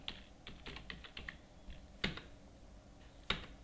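Computer keyboard keys tapped in short bursts of clicks, a quick run of strokes followed by a couple of isolated sharper presses, close and fairly quiet with no talking.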